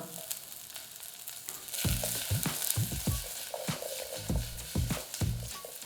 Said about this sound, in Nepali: र सुरुमा लसुन अदुवालाई मजाले भुट्ने र यसैमा हामी प्याज पनि राखिदिएर यसलाई 2-3 मिनट हाई फ्लेममा मजाले फ्राई गर्छौँ।